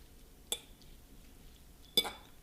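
Utensils stirring olive tapenade in a bowl give two brief, quiet clinks about a second and a half apart over a faint background hiss.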